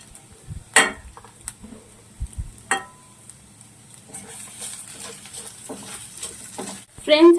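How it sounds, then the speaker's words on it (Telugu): Whole garam masala goes into hot oil with onions for a hotel-style paneer tomato curry, bringing a soft intermittent sizzle, sharp spoon clinks against the pan and a loud scrape at the end. "ఇప్పుడు నేను హోల్ గరం మసాలా వేస్తున్నాను ఫ్రెండ్స్."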